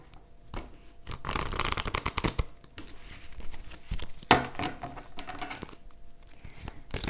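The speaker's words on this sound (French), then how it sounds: "Hop, que j'attrape les cartes." Tarot cards handled and shuffled, giving soft papery riffles, rustles and light flicks at close range, with a brief sharper snap midway and no talking.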